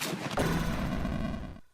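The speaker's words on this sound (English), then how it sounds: "This 50 millimeter, it fires pretty fast." A 50 millimeter tank gun firing in the tank game Armoured Commander II, a loud sustained blast of gunfire with a sharp onset that rumbles on before cutting off abruptly.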